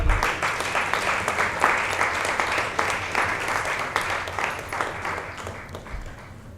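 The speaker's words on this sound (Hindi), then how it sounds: "तालियां रुकनी नहीं चाहिए." Sustained crowd applause at a poetry awards event, thick continuous clapping from many hands that holds steady and eases slightly toward the end.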